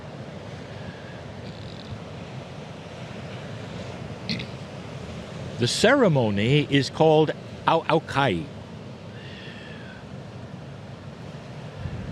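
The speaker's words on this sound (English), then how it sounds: "you might even hear the ocean and the wind as we are in a public place." Steady wind and ocean surf wash across a public beach during an outdoor water purification ceremony, a constant broad rush with someone speaking briefly over it midway.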